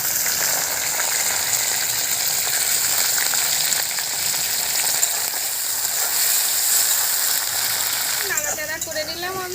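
Prawns hit hot oil that already holds black cumin and green chillies, and a loud continuous frying hiss stays close and even throughout, with a brief scraping stir near the end.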